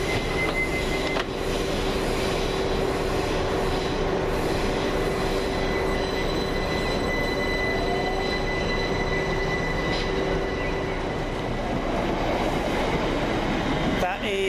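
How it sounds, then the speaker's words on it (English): A London Overground Class 378 electric train on the Stratford to Clapham Junction service passes at Gospel Oak with a loud, continuous rumble of wheels on rail, faint squealing tones and light rhythmic clatter over the tracks. "there goes 378229 with the 1500 London Overground service from Stratford through to Clapham Junction."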